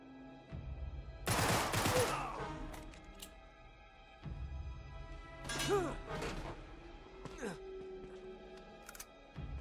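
Gunfire in the Uncharted 3 video game, with a couple of loud bursts of shots and impacts separated by quieter stretches of game ambience and a player talking.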